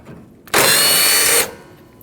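A power tool spins out a 12 millimeter bolt on a Nissan NV2500, giving one loud, close whir of just under a second with quiet on either side.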